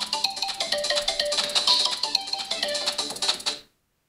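A smartphone's built-in speaker plays music loudly and steadily for a few seconds, bright and tinny, then cuts off abruptly into silence.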